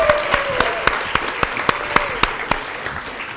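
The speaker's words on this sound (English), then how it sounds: "We can applaud." A few people clapping in a steady, evenly spaced rhythm at a meeting, with sharp, distinct claps rather than a dense roar, and a faint voice underneath.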